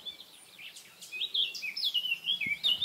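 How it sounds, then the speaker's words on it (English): Several birds sing and chirp in an old garden outside an abandoned farmhouse in Denmark, with bright overlapping calls and trills that are fairly close and steady throughout, with no talking. "And the birds are singing."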